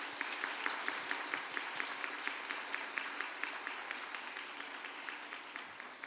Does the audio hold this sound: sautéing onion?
no